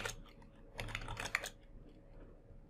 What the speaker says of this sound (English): So I could copy and paste, but I'm just going to type it out.